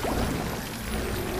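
Water pours over a fire in the LEGO Harry Potter: Years 1-4 video game, a loud, continuous rushing splash that fills the whole moment without any talk.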